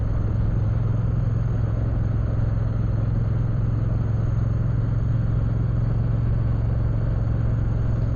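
A Triumph Bonneville T120 motorcycle riding on a smooth dirt road, its engine making a steady, close, continuous low rumble with wind and road noise and no talk.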